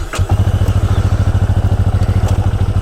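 A Honda Rebel 300 motorcycle engine starts up and runs with a steady, rapid low thumping pulse, loud and close, with no talk.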